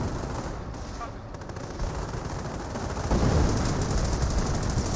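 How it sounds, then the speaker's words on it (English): An M10 tank destroyer fires in the World War II strategy game Company of Heroes. Dense, continuous battle din and gunfire run throughout and grow louder and heavier partway through. No speech is heard. "M10 firing some shots there, but rolling some misses."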